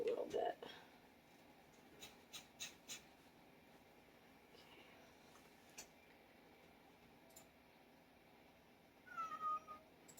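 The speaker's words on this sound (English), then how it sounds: "And the cat wants back in" A house cat outside wanting to be let back in gives a faint meow near the end of a quiet room with soft ticks and taps.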